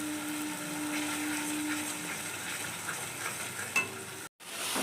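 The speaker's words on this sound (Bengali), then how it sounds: "এবার আমার মশলাটা কষা হয়ে এসছে, তেল ছাড়ছে" A spice paste frying in oil for a prawn and soybean kofta curry, stirred in the pan, makes a continuous near sizzle with faint scraping, broken by a brief drop to silence near the end.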